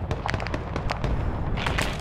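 Smoke grenade going off in Arma 3 amid a busy combat soundscape: a sustained broadband hiss and rumble with scattered sharp pops and cracks over about two seconds, loud and continuous, ending in a sharper burst.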